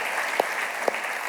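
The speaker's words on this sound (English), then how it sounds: "Give Stephanie a little round of applause." An audience at a business breakfast held in a church gives a short burst of applause, steady and dense throughout, with a couple of sharper individual claps standing out.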